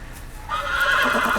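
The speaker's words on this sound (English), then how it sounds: "Oh good, our horse is spooked." A spooked horse in the Game of Thrones video game lets out one loud, close whinny that starts after a brief quiet moment and carries to the end.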